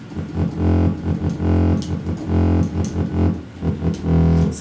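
A busy synth bass line pulses in quick, repeating low notes, loud and steady with no voice over it.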